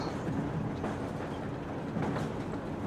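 Train rumble in Metro Exodus, a steady rolling clatter with faint rhythmic rail clicks, moderately quiet and continuous throughout with no voices.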